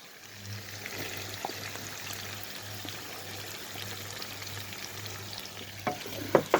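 Onions frying in a pan for homemade paella give a steady, moderate sizzle, with a few sharper clinks and stirring knocks near the end.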